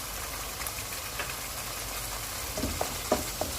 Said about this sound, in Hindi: अब इन्हें थोड़ी देर तक भूनेंगे।